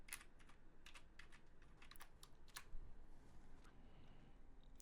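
Someone types a Wi-Fi password on a computer keyboard during Hackintosh setup on an ASRock X570 Ryzen 3900X build: several bursts of quick, close key clicks with short pauses, quiet and without talk.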